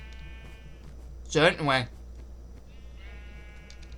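Sheep bleating inside a video game, two loud wavering bleats back to back in the middle of the clip, with a brief spoken line and faint background tones around them.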